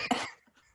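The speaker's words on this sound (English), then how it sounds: "We see you coughing right now." One short, sharp cough from a person during a comedy fundraiser about masks and COVID; it is fairly quiet and heard alone, with no talk.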